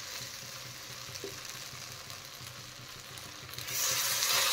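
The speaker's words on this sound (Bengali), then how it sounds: "পরিমাণ মতো আমি গরম জল দিয়ে দিচ্ছি।" Rice browned with spices and tomato sizzles steadily in a pan, then hot water pours in near the end, making a louder hissing rush.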